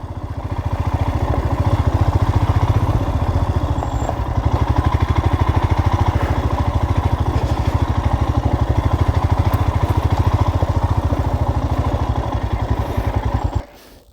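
Off-road motorcycles of a riding team idle and run nearby, a steady, loud, rapid engine chatter holding for about thirteen seconds before cutting off abruptly.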